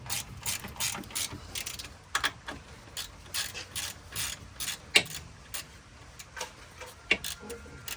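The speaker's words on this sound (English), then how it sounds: "See the bolts that I'm unscrewing?" Ratchet unscrewing bolts on a KWM gutter machine during a 6K to 5K changeover, with quick irregular bursts of close, crisp clicking and pauses between strokes.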